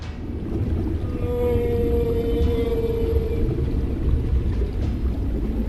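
A blue whale sings underwater, a long, low moaning tone that slowly glides over a deep, rumbling ocean background, alone and moderately loud.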